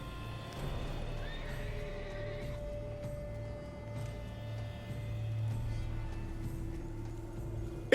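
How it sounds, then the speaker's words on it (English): A horse in The Witcher 3 video game whinnies and snorts while its hooves clip-clop steadily. The sounds are moderately close and clear, with faint background ambience and no talk. "This one's assumed the form of a horse."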